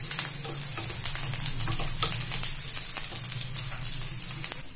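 Vegetables with green and red chillies fry on a low flame for a Manchurian dish, a steady, close hiss and crackle of sizzling oil that continues without pause and without talk.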